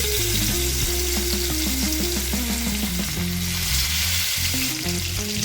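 Soft pieces of bhetki fish frying in hot oil give a steady, loud sizzle that runs unbroken, with occasional stirring clatter and a low background hum underneath.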